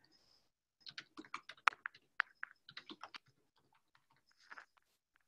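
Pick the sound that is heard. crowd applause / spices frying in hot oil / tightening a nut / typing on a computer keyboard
typing on a computer keyboard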